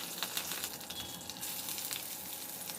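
Onions and fresh curry leaves fry in a pan with a continuous bubbling sizzle and small crackling pops, heard up close with no voices.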